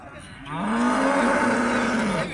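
A young calf at a livestock market in Şebinkarahisar gives one long, loud, nasal moo lasting about two seconds, close by and alone.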